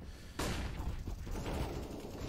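Gunfire in the tactical shooter CS:GO during a pro match between FURIA and 9z, a sudden loud burst of rapid shots followed by dense rattling fire and clatter for the remaining seconds.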